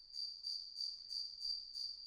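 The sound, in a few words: crickets chirping in the background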